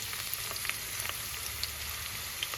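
Onions go into hot oil and fry, making an even, fairly soft crackle with scattered small pops and no voices.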